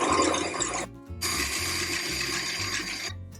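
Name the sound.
electric mixer beating eggs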